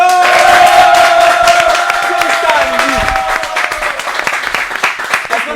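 Studio audience at a television show applauding and cheering for a singer, steady loud clapping with crowd noise and some voices mixed in, tapering slightly toward the end.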